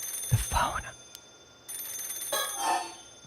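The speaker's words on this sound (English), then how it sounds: "Oh, the phone." Electronic telephone ring sounding twice in the horror adventure game Paranormasight: The Mermaid's Curse, two short bursts separated by a pause, with someone speaking softly near the start.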